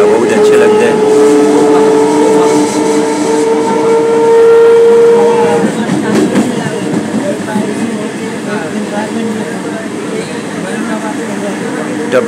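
A Kolkata suburban EMU train on the Sealdah line running at speed and overtaking a MEMU train: a loud, continuous rumble of wheels on rail, with a long steady whistle-like tone for the first few seconds before only the broad running noise remains.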